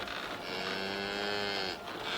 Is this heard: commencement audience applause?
no